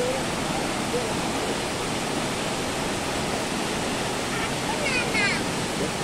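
A waterfall in strong flow roaring close by, a dense steady broadband rush that holds constant throughout, with faint voices briefly audible near the end.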